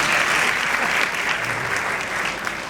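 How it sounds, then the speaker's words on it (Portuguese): Sustained audience applause at a school graduation ceremony honoring a teacher, a dense steady wash of many hands clapping close and loud for the whole stretch, with no talk over it. "Por isso, palmas para Delci, velho."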